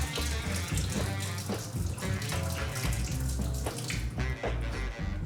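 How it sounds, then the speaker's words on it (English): Steady rushing water drains from soaked nuts through a hand and splashes into a sink, a continuous gush with no pauses. "I'll put my hand in here as a filter and letting all the water come out"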